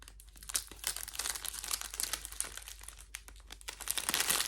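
Plastic bags crinkle and rustle up close in irregular bursts, soft crackling handled continuously for a few seconds.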